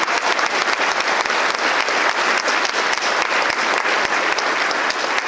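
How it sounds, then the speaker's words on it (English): A large audience at a chamber of commerce annual event claps loudly for school staff, a thick, sustained roar of hands from start to finish. "let's give these people a round of applause"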